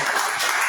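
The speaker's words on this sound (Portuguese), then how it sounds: "As palmas lá pro Senhor Jesus" A worshipping congregation at a home church service claps steadily, a dense, loud wash of many hands with no pauses during the brief moment.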